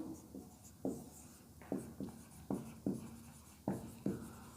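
Pen or chalk writing out an example sentence during an English grammar lesson, a series of sharp, regular strokes about every second, close and clear with no talking.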